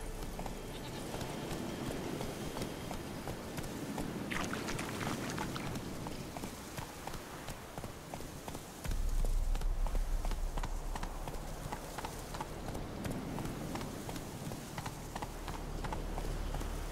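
Horse galloping in the video game The Witcher 3, steady rapid clip-clop hoofbeats running throughout alongside a rushing ambient background, with a deep low boom entering partway through, no speech heard.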